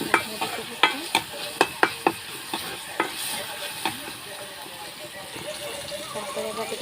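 A spatula stirs food frying in rising oil in a pan, striking it in a quick series of sharp, close clicks over a steady sizzle. The scrapes thin out toward the end, with a faint voice in the background.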